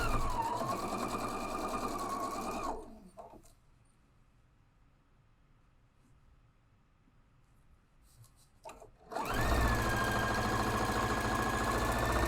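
A sewing machine runs at steady speed through a quilted caddy project, droning loudly, falls silent for several seconds at a cross seam, then starts stitching again close up.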